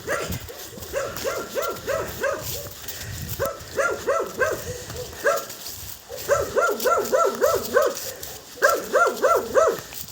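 A pet dog barking at its owner arriving home as though at a stranger: loud, close bursts of rapid barks in repeated volleys with short pauses between them, over low background noise and with no talking.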